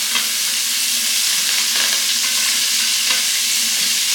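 Onion, tomato and carrot sizzle and fry in a pan for avalakki, a loud, steady crackling hiss that continues without a break throughout, with occasional stirring scrapes.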